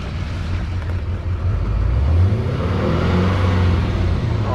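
Engine of a 1993 GMC Suburban truck running loudly and close, with a low rumble that rises in pitch as the revs climb and then holds steady.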